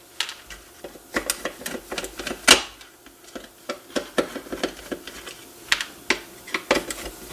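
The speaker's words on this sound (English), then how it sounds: "I'm going to remove the screws that hold the original speaker to the back of the plastic grill." Screwdriver work on a NuTone IS68 intercom's plastic speaker grill, as screws are backed out: a close series of irregular clicks, scrapes and ticks from tool and plastic, with no talking.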